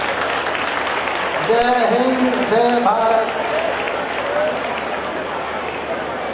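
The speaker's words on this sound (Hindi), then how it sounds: "एक बार जोरदार ताली" Loud applause from an audience at a social-organisation programme in India, continuous clapping with a voice chanting a short slogan over it midway before the clapping carries on alone.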